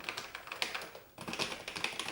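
Rapid typing on an Amstrad CPC 6128 keyboard, a dense run of close clicking keystrokes with a brief pause midway before the fast tapping resumes.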